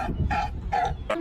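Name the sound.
California sea lion barking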